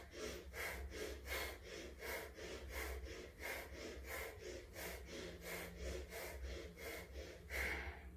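Deep, audible yoga breaths, alternating inhale and exhale in a steady rhythm of roughly one breath every half second, close and soft, with no talk over them.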